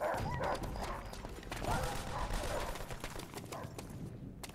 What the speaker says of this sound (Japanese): 犬がやってんのか。